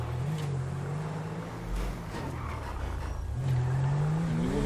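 Police car engine in the video game GTA V with the LSPDFR mod, revving as it drives, a steady mid-level whir with engine pitch rising and falling twice, no talk.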